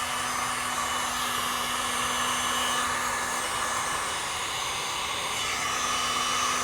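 A continuous close airflow roar from a heat gun post-heating vinyl wrap edges on a Tesla Model 3, holding level and steady throughout with a low constant hum beneath and no voices.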